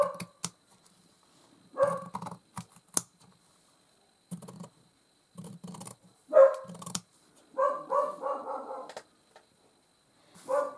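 A dog barks in short, sharp bursts off and on in a room where a small fabric purse is being sewn and trimmed, mixed with light handling clicks, with no talking.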